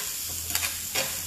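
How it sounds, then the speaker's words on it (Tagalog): Onion sizzles and fries in a hot pan, a steady bright crackle with a couple of stirring swishes and no talking. "Tapos lagay na po natin yung onion"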